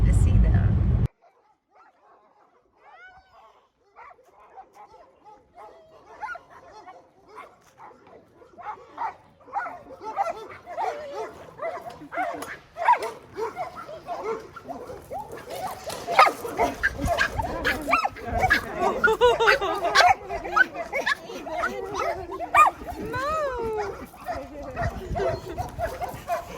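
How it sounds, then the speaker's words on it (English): Pet dogs bark and whimper with yips, nearby and repeated, growing busier and louder toward the end, while people talk over them and a car is faintly present. "we're about to see our pups"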